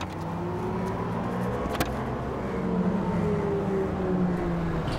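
A car pulls away and drives off. A fairly quiet engine hum rises gradually in pitch over several seconds, broken by one sharp knock partway through.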